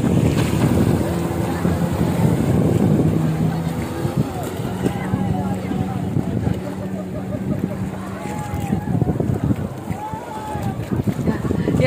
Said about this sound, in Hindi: यहाँ पे लहरें बहुत तेजी से हलचल मचा रही हैं।